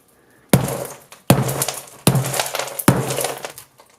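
An iPhone is smashed four times at an even pace, each hit a sharp, loud crack of glass and metal followed by a brief crunchy rattle, close up and with no talking.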